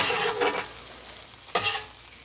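Onions and meat for a cheesesteak sizzle together on a hot pan, with a quiet steady frying hiss broken by a few short scraping stirs of a utensil, fairly close and with no talk.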